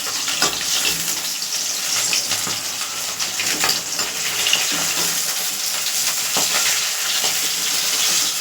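Katla fish pieces coated in salt and turmeric fry in hot oil, a loud, steady crackling sizzle close up with occasional sharper pops and no voices.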